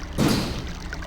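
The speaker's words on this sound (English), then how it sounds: "Now the water is flowing out of here and in and out there to power things" Water in the Channelwood Age of the Myst video game, a soft pouring gush that swells in after a brief quiet and then keeps running at a steady, moderately close level.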